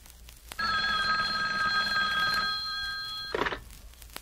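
The hotline telephone bell in a Batman motion comic rings in one sustained, bright metallic burst of about three seconds, close and loud, then clatters briefly as it stops.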